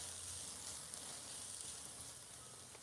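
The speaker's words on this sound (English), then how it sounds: "Get a stir on it in the coconut oil" Chopped vegetable soup base sizzling in hot coconut oil in a pan, a steady close crackling hiss with no voices over it.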